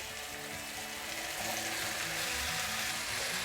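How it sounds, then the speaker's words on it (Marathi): Onion and tomato frying in a pan as chopped okra goes in, a dense continuous sizzle and hiss, close and steady throughout with no voices. "आता हे चांगलं आपण परतून घेऊ कांदा टमाटा परतला की यामध्येच आपण कापल्याला भेंडे टाकून देऊ"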